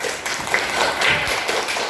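A classroom of students gives a short burst of clapping for a presenting group, a brief, busy patter of hands at moderate loudness.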